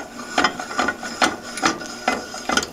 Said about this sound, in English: I'm going to put this into my vise